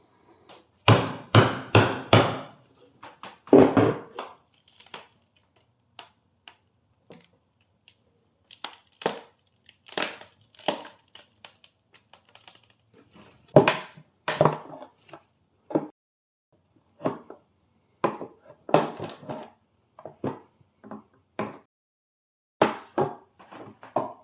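A Dumfume 12V 314Ah battery has its lid pried open, giving scattered sharp cracks, knocks and snaps of plastic in irregular bursts with quiet gaps between.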